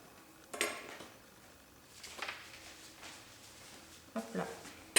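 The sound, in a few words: scissors cutting fabric for a Christmas boot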